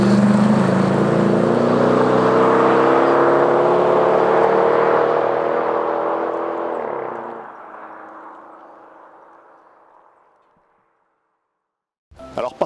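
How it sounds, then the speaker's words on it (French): A Chrysler 300C with a V8 Hemi engine pulls away. The engine note is loud and close at first, then fades steadily into the distance until near silence, with a brief noise at the very end. "on va enchaîner sur la vidéo de la voiture qui s'éloigne au loin"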